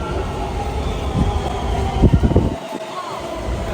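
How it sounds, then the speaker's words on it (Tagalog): Taipei metro Brown Line train pulling into a station, a loud rumbling approach with rattling wheel thumps and a squeal, then a brief drop before steady station hum; a voice is faintly present. "Yan na yung tren."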